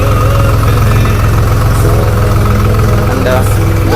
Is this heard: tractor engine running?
yes